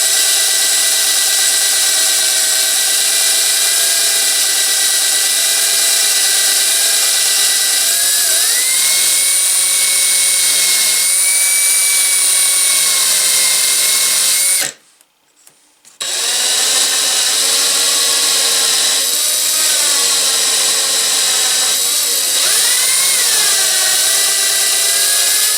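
A power tool sands with finer 400-grit abrasive in a steady, loud whine. The pitch wavers slightly as pressure changes, then the tool cuts out for about a second before whining on again.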